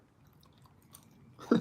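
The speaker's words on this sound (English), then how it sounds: "crunching will live rent-free in your head" Crunchy food being chewed up close, a low steady munching that swells into one loud crunchy bite at the very end.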